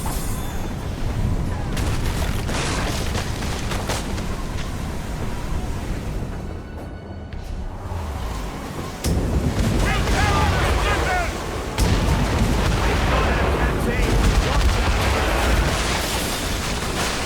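Naval cannons fire from a ship in Assassin's Creed Rogue, a loud, nearly continuous barrage of booms and rumbling blasts that goes on for the whole stretch, with voices mixed into the din.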